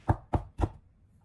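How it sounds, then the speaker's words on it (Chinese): A knife chops a peeled, lightly smashed piece of old ginger into mince on a board: three sharp, close, evenly spaced chops, then quiet. "再将它改刀切成姜末"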